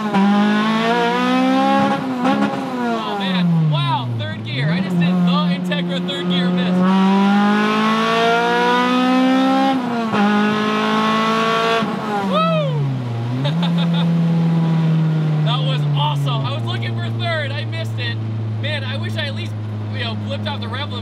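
A K24-swapped, right-hand-drive-converted Acura Integra revving hard toward 9000 RPM, its engine note climbing loudly and continuously through the gears with several brief dips at each shift.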